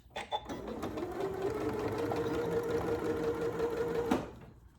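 A Janome Memory Craft MC9450 sewing machine back stitches in a steady, rapid mechanical whir lasting about four seconds, starting after a few clicks and stopping abruptly, close and alone.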